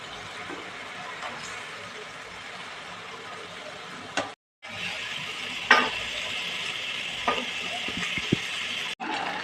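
Rithe fish drop into a simmering spicy curry in a pan, bringing a steady close hiss of sizzling with occasional clatter and stirring knocks.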